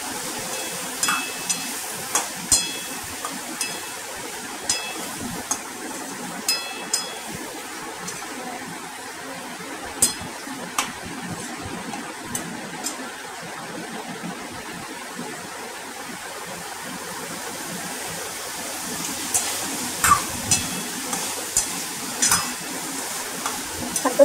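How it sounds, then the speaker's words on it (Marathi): Brinjal and potatoes sautéed in oil, a soft continuous sizzle and hiss punctuated by repeated light clinks and scrapes of a spatula stirring in the pan, close and steady, with no talk. "वांगे बटाटे आपल्याला छानपैकी परतून घ्यायचे आहे। तेलामध्ये मस्त एकजीव होईपर्यंत त्यांना आपल्याला परतवायचे आहे।"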